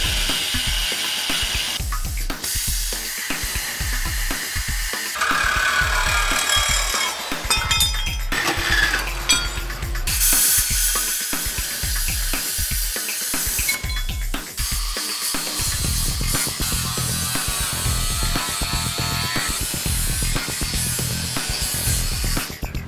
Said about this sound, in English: So we're gonna just cut it as best we can.